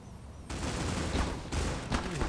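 Pistol fire in the mobile shooter Critical Ops erupts suddenly after a quiet moment, a rapid, loud run of shots lasting about two seconds with a couple of sharper cracks near the end.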